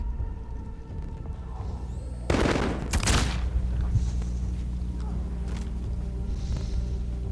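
A thrown grenade goes off in Modern Warfare, a loud close burst with a rush of gunfire crackling for about a second, then a low battle rumble that carries on, with faint talk underneath.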